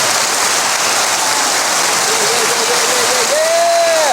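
Applause and cheering to mark eleven years cancer-free, a dense, steady clapping wash held at full level throughout, with a rising whistle-like tone near the end.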